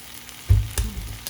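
An egg drops into a hot pan and sets off a short burst of close sizzling with a few sharp pops, all within about a second.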